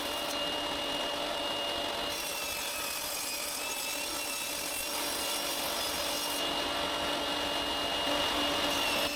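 Purpleheart wood being cut into pieces about 1.1 centimeters thick with a saw while building a fruit bowl, a steady continuous rasping, grinding cut that holds close and loud for the whole stretch with no talk.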